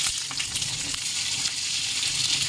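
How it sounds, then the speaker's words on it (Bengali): Steady oil sizzle of onion and capsicum frying in a hot pan, a dense crackling hiss with a few sharper pops, continuous and close. "এখন আমি পেঁয়াজটা আর ক্যাপসিকামটা ভেজে নেব।"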